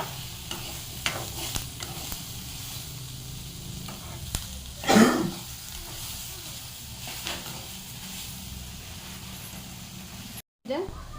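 Tomatoes cooking soft in a pan for street-style masala puri, with steady sizzling and a few scraping stirs, one louder stir near the middle, under a faint voice.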